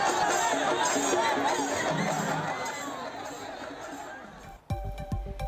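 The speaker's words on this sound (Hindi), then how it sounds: "उनके स्वागत में इतनी भीड़ जुट गई मानो पूरा तमिलनाडु सड़क पर उमड़ आया हो" A large, noisy crowd gathers on a street in Tamil Nadu to welcome cricketer T Natarajan, a continuous roar of chatter and voices that fades slightly before a brief burst of closer sounds at the end.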